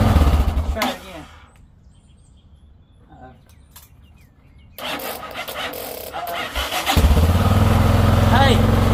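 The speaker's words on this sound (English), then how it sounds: "A DeWalt battery, 20 volt, will crank a 1990 XT Yamaha." A 1990 Yamaha XT motorcycle cranks on a small 20 volt DeWalt power-tool battery, a loud close starter whir, a quiet pause, then another crank that catches into a steady engine idle, with people talking throughout.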